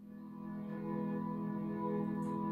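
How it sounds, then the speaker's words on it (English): Korg Wavestate synthesizer playing the Lost in Space pad patch, a soft sustained chord that swells gently in the first second and then holds steady and quiet, with no voices. "the first Zoa is controlling the Wavestate and it has a patch on it called Lost in Space"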